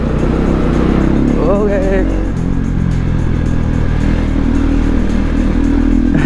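A KTM 390 Duke motorcycle engine drones loudly and steadily while riding, a continuous close rumble with a brief rise in pitch partway through, and a voice speaks briefly over it.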